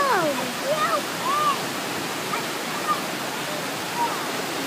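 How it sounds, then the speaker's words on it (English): Multnomah Falls waterfall roars as a steady, unbroken wash of falling water, with a few faint high chirps or whistles rising briefly over it. "that's the waterfall I was talking about"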